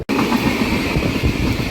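A train passing close by on the Yesvantpur to Gorakhpur route, loud continuous roar and rattle of wagons with rhythmic wheel clatter starting abruptly and sustained throughout.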